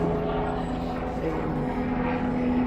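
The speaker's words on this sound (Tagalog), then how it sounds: "may helicopter na dumadaan" A helicopter passes overhead above a small veranda garden, its engine and rotor drone steady and moderately distant, holding a constant level throughout.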